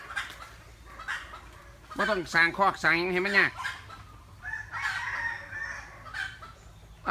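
Chickens clucking and a rooster crowing at a Thai sweet bamboo and lime farm with a chicken roost, the crow loud and close in the middle, with people talking around it.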